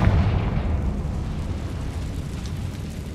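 Confringo blasting spell going off in Hogwarts Legacy, a broad low rumbling blast that starts loud and slowly tails off, heard alone with no voices.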